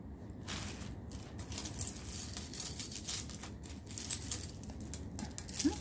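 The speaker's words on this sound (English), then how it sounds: "Pearls flying everywhere." Loose plastic pearl beads from vintage costume jewelry scatter and patter onto a surface, many faint clicks and small rattles spread over several seconds, quiet and close.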